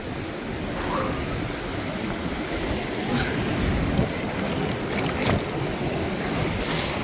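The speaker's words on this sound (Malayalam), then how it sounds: "രസമുണ്ട് വെള്ളത്തിൻ്റെ ശബ്ദം കേൾക്കാൻ" Steady rushing stream water in Kashmir fills the whole stretch, a continuous broadband wash with gusts of wind noise over it; no voices.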